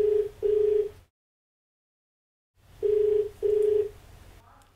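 A telephone line ringing while a TV phone-in show calls a viewer: two double rings, a silent gap between them, then a faint click at the end.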